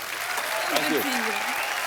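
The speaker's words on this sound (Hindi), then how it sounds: "जोरदार तालियां" Studio audience at a comedy talk show bursting into loud applause after a singer guest is welcomed, sustained crowd clapping with a voice speaking over it briefly.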